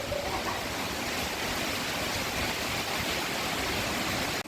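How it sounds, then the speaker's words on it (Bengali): Heavy rain pours with gusty wind during Cyclone Remal, a dense, loud, unbroken roar of falling water that fills the whole stretch without voices before cutting off abruptly at the very end. "দেখো প্রচন্ড মানে ধোঁয়ার মতো বৃষ্টি, পুরো হাওয়া হচ্ছে"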